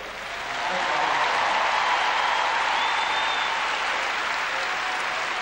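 A large arena crowd at the 1996 World Figure Skating Championships gala in Edmonton applauds young girl skaters collecting bouquets from the ice; dense, steady clapping swells in within the first second and holds loud and even.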